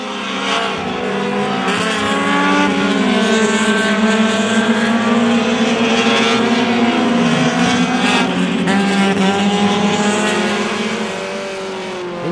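In-car sound from a Honda Challenge race car leading through the S's at Mid-Ohio, its engine droning loud and steady with rising and falling pitch as it shifts and accelerates, other cars faintly audible, no talking.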